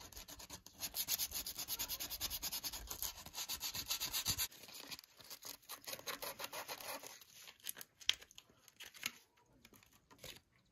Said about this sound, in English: let's go ahead and sand as much as we can to get everything cleared off